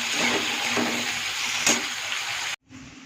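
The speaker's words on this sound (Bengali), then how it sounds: "তো চলো বন্ধুরা ফটাফট মশলাটা দিয়ে একটু কষে নিই" Spice masala frying in a pan while being stirred, a steady close sizzle with a few scraping strokes, then an abrupt cut to near silence followed by a fainter hiss.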